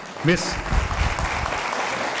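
Applause from a debate audience, a brief dense patter of clapping lasting about two seconds after a short voice.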